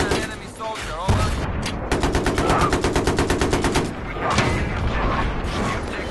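Battlefield 3 gameplay gunfire: loud, rapid bursts of automatic fire in a tight, even rhythm, with heavier booms before and after the longest burst.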